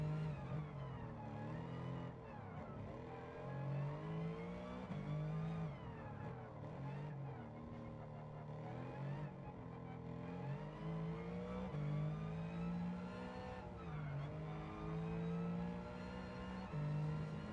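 A tuned, powerful race car engine in a racing video game, revving and shifting continuously with rising and falling whine for the whole stretch, loud and steady with no speech.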